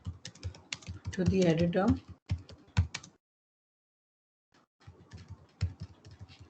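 Quick clicks from a computer keyboard come in bursts while a voice talks over part of the typing. A short silent pause falls midway before the tapping resumes.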